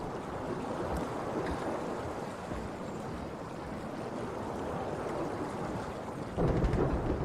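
Rumbling thunderstorm ambience in the video game SOMA, a steady broadband roar of rain and low thunder throughout, swelling louder near the end, with no talking.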